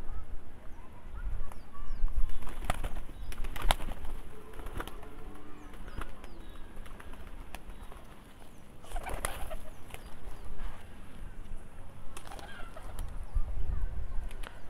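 Pigeons let out onto a rooftop and fed in the afternoon sun, giving scattered bird calls and rustling, with soft flutters and pecking noises rising and falling throughout at moderate distance; no talking.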